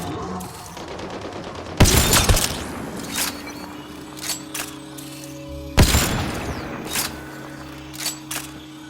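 Gunfire in Mass Effect: Andromeda combat: two loud heavy blasts about four seconds apart, each followed by fainter single shots and clanks over a low ambient hum.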